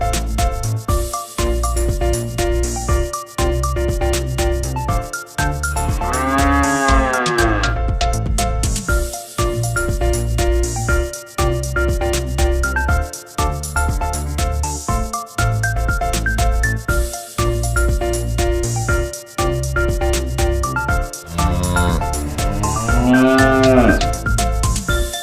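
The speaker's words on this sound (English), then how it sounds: "Calves, with their big eyes and calm behavior, are very lovable." Calves on a farm moo loudly and repeatedly, long drawn-out calls rising over steady barnyard background noise, with two prominent bellows standing out near each other.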